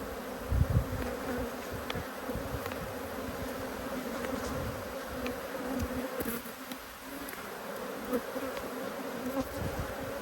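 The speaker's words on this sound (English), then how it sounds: "I've got a couple of bees floating around on this other box." Honey bees from an agitated colony hum around an opened hive during an inspection in Australia, a steady close drone with a few louder bumps and clicks of handling, and no one talking.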